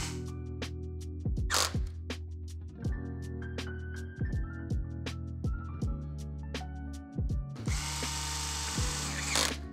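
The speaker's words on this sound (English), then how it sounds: "If you are using a power tool for this part of the process" A power drill whirs in short repeated bursts, reinstalling screws during a 4x4 boost transmission upgrade set installation, with brief pauses between runs, close and steady, ending in a louder grinding buzz.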